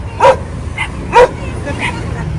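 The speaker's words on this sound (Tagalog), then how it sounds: "Ang dami mong aso." Dogs barking in a Filipino home setting, two sharp loud barks about a second apart followed by fainter yips and whimpers against a low background.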